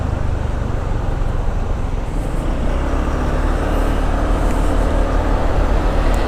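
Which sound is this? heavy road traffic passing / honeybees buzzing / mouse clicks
heavy road traffic passing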